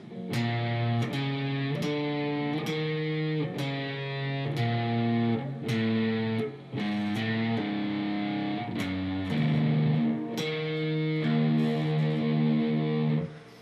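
An electric guitar works slowly through part two of a blues turnaround, distinct plucked notes and double-stops in a deliberate rhythm, close and moderately loud with slight grit, played alone without talk.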